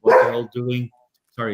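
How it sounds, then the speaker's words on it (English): A dog barks in short bursts close by while someone talks during a roller coaster enthusiasts' podcast recording, the barks blending with his voice before a pause. "that's my dog."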